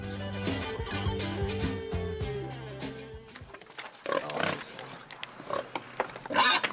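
Pigs on a farm in Corsica, raised for charcuterie, grunt and squeal in short, irregular bursts at close range, following a stretch of music.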